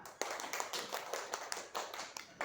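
A school class claps hands in a quick patterned rhythm, sharp bursts grouped in short phrases, fairly close but quietly recorded.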